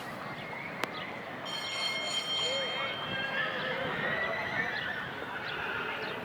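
A horse whinnies in a show jumping arena, with an announcer talking over a steady crowd and arena ambience throughout.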